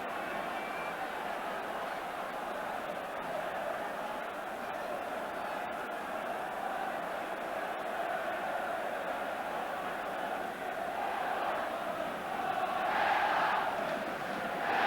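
A vast Aston Villa crowd at a football match roars the team on, a broad, steady wall of noise from a distant stadium that swells near the end, with a commentator talking over it.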